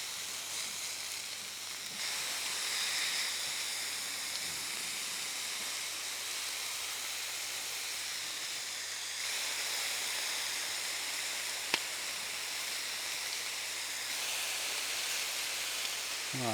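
Bacon fries in a pan beside smash burgers, giving a steady, broad hiss and sizzle that holds at an even level throughout, with no talking and only a brief clink partway through.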